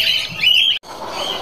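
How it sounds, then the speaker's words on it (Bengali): A Moluccan cockatoo on an exotic bird farm lets out a harsh, close squawk, cut by a brief silence and followed by a second raspier call. "মলুকান কোকাটো।"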